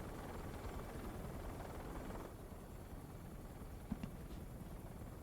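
Steady whirring rotor drone of a helicopter in the video game Metal Gear Solid Delta: Snake Eater, constant and fairly faint throughout, with one brief click near the end.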